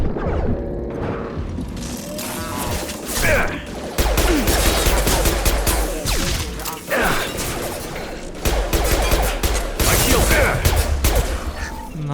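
Dense, continuous bursts of automatic gunfire and weapon mechanisms crackle in a Mass Effect 2 firefight, loud and sustained throughout, with brief game dialogue mixed underneath.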